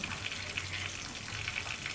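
Fish frying gently in oil over a low flame, a soft, even crackle and sizzle with faint bubbling, fairly quiet and steady throughout.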